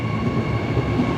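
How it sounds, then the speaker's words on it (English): Brisbane Airport AirTrain pulling away on departure, a steady low rumble of rail wheels and motor with faint tonal hum, continuous and fairly close, no talking. "Oh, listen to that air train departure."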